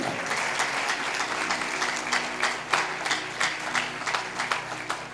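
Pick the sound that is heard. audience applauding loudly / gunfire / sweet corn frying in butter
audience applauding loudly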